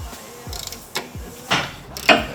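Axle cover bolts tightened on a drift car being prepped for the track, a series of close ratcheting clicks and metallic turns in quick succession.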